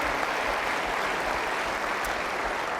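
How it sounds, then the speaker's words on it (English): A crowd at the 2020 State of the City Address bursts into dense, sustained applause, a steady wash of many hands clapping that holds at a constant loudness with no voices on top. "Please give them a round of applause."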